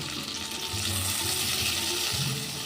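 Onion and capsicum strips fry in hot oil in a pan, giving a loud, continuous, close sizzle with low rumbling stirring and occasional clatter, without any talking.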